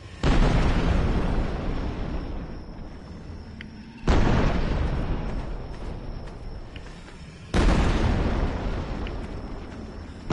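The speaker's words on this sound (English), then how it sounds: "Yo, I hear explosions!" Three heavy explosions in the dinosaur survival game Jurassic Ark: World Evolved, each a sudden loud boom that decays over a few seconds before the next, evenly spaced and without voices.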